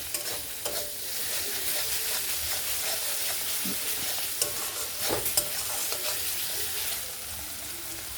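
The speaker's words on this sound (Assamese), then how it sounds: "আৰু এতিয়া মই পানী এড কৰিছোঁ।" Masala for a kos fish curry with tomato sauce sizzles and is stirred in a pan as water goes in, a dense continuous hiss with scattered spoon clinks and splashy bursts.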